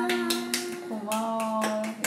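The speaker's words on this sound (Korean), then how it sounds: "박수 쳐줬잖아" Several people clap their hands together at a family birthday celebration for a mother, a handful of separate claps spaced out over a sustained sung or voiced tone, with speech mixed in.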